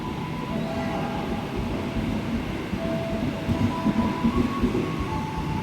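A heritage train on the Pangrango to Paledang service pulls away with a loud, steady rumble of rolling stock. Faint tonal squeals run through the low, continuous drone.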